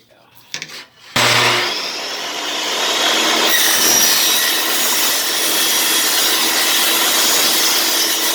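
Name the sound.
saw cutting laminate flooring piece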